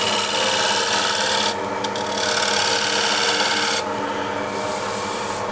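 A hand scraper shears across a wood surface in long, continuous rasping strokes, loud and close, with a brief change in texture between passes.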